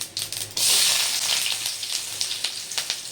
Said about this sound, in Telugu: ఆయిల్ వేసి కొంచెం పోపు దినుసులేసి